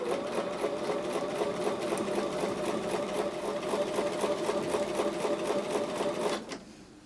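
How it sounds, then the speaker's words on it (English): A sewing machine runs steadily for about six seconds, stitching a quarter-inch seam on quilt block pieces, its rapid rhythmic needle clatter even and close before stopping abruptly near the end. "I'm going to go back over to the sewing machine and sew with a 1/4 inch seam allowance"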